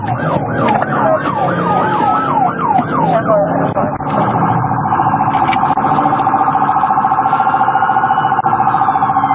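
An ambulance siren blares close and loud during a high-speed police chase, first sweeping in a fast wail pattern, then switching to a rapid steady yelp, with engine and road noise underneath.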